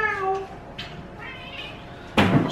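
Several cats meow in quick succession indoors, a drawn-out cry at the start followed by shorter calls, then a louder burst of noise near the end, all fairly close.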